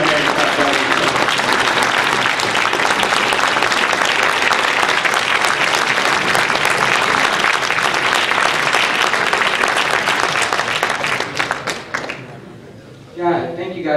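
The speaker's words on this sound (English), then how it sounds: "Give him a hand clap." An audience at a Junior National Elite event applauding to welcome a keynote speaker, loud sustained clapping filling the room and fading away, with a voice starting up at the end.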